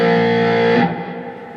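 Electric guitar chord played through a Line 6 Pod XT Live effects unit with reverb, loud and sustained with a distorted, buzzy tone before the strings are damped and a short reverb tail fades.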